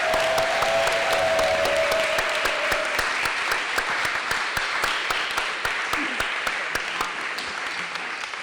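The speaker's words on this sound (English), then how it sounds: "If you could please give them a big round of applause." Sustained, dense applause from a conference audience at closing remarks, steady and loud for the whole stretch with many overlapping claps, fading slightly toward the end.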